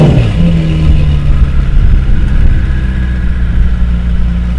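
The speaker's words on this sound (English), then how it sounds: "We've got a flap actuated rear muffler and a sports exhaust system." A Novitec-tuned supercar with a flap-actuated rear muffler and sports exhaust runs loudly and steadily up close, its deep engine tone holding through the whole stretch with a slight rise early on.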